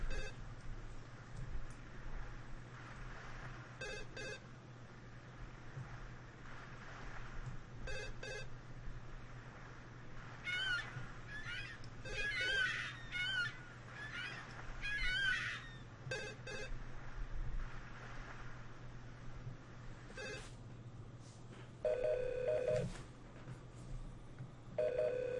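A telephone rings in the detective adventure game Tex Murphy: Overseer, with repeated ring bursts recurring through the scene over a steady low background hum and other game sounds.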